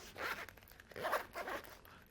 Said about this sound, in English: you've got the zipper pulls here, the single zipper pull right here versus the double right here